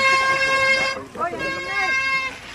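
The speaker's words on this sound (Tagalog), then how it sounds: "Bakit may busina?" A loud, sustained horn blares for about a second at a downhill mountain bike race, then short honks mixed with shouting voices follow, with the horn returning toward the end.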